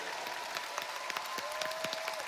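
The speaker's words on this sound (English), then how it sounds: "Please join me in giving all these amazing athletes one more round of applause" Audience applause for athletes on stage at a USANA general session in Korea, a steady wash of clapping throughout with faint sustained tones beneath.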